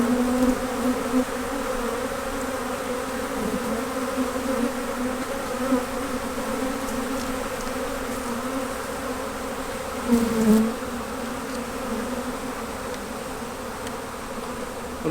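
Honey bees buzz in a dense, steady drone after being shaken out of a nuc box during transfer into a Maisemore commercial poly hive, the swarm sound close and continuous with a brief louder swell near the end.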